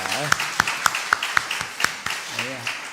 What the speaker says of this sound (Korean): 박수로 축복합니다